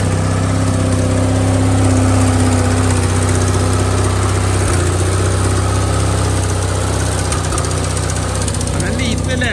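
A Gravely garden tractor engine runs with a loud, steady, rough drone and constant low hum, close and continuous throughout.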